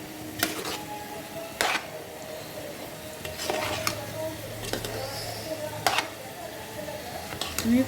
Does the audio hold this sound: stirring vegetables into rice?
yes